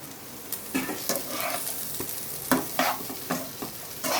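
Dried fish tossed into a pan with softened onions and pre-cooked brinjal, drumstick and field beans for a Tamil dry fish curry, frying with a steady close sizzle and several sharp stirring clatters of a spoon against the pan.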